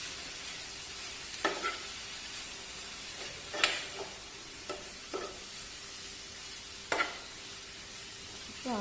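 Amaranth leaves and jackfruit seeds stir-fried with salt in a pan for thoran, a spatula scraping and tossing in several distinct strokes over a steady low sizzle, close by with no talking.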